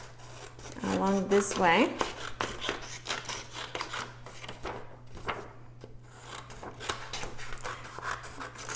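Scissors snip through paper sight word cards close by, with a steady series of rasping cuts, while a voice speaks briefly near the start.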